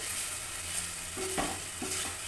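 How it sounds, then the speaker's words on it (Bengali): Marinated soya chunks fry in hot oil under a steady, faint sizzle, with two short scraping stirs standing out near the end. "তেল হালকা গরম হওয়ার পর আমি সয়াবিন ম্যারিনেশনটা ছেড়ে দেবো।"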